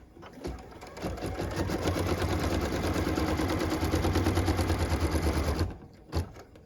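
An embroidery machine stitches a cut line for a pieced flag quilt block in the hoop, a fast, even mechanical hammering that runs steadily for about five seconds, close and fairly loud, then stops abruptly.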